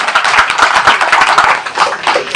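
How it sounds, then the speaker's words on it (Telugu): A crowd applauds for Chandrababu Naidu, dense overlapping handclaps rising and falling loudly and steadily throughout, with no voices on top. "చంద్రబాబు గారు ఒకసారి గట్టిగా చప్పట్లు కొట్టండి చంద్రబాబు నాయుడు గారికి"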